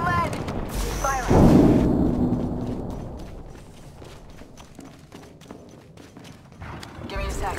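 Gunfire from the video game Apex Legends, with a loud burst of shots near the start and a string of sharp cracks tapering off over several seconds, mixed with game effects.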